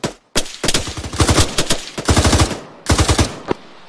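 Loud bursts of automatic gunfire from the military shooter game Arma 3 come in several rapid volleys separated by short pauses.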